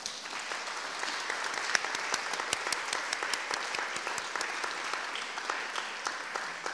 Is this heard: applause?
yes